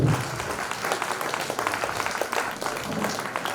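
Audience applause welcoming a Parai drum performance at a Human Rights Day 2024 event, a steady, dense patter of many hands clapping that fills the whole stretch at an even level.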